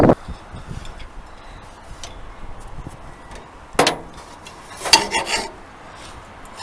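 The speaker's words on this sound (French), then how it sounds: "Voilà, donc on a limé un peu ici, on a blanchi la surface" A hand file rasps against the hammer of an Odobey clock in a workshop. Soft scraping continues throughout, broken by a few louder metallic strokes and clinks, all up close with no talking.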